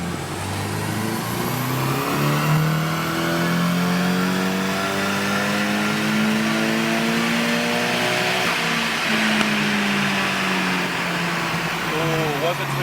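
A restored JDM Nissan 180SX engine revs at full throttle, its loud, close roar climbing steadily in pitch, easing slightly and then pulling again, sustained for the whole stretch.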